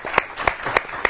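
Audience applause at a Hindi poetry gathering on Valentine's Day, heard as four evenly spaced sharp claps over a soft, diffuse background, brief and moderately close.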